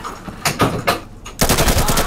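Bursts of gunfire in the tactical shooter Insurgency, several sharp shots followed by a dense, sustained volley of rapid fire, loud and close.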